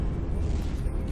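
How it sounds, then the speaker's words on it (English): A torpedo strikes its target in the naval combat game From the Depths, a dense, steady low rumble of explosion roaring continuously without pause. "Nice hit from the torps there"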